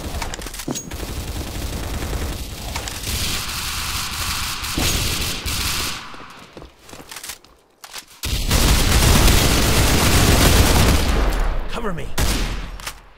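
Sustained automatic gunfire and explosions in a counter-terrorist shooter video game, loud and dense bursts that briefly thin out before resuming at full intensity, with a voice heard faintly.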